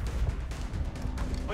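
A gunshot from the turn-based strategy game XCOM: Long War cracks out in a couple of sharp bursts, with someone speaking in the background.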